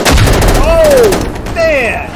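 A single loud, close gunshot from the World War II shooter Easy Red 2, followed by descending whistling tones and a rumbling tail.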